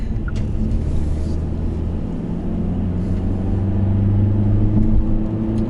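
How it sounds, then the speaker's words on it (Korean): Exhaust note of a Hyundai Sonata DN8 while driving: a steady, loud low drone that swells gradually as the car accelerates, heard from inside the cabin. "좀 밝아보시면 아마 배기음의 차이도 좀 느끼실 거예요."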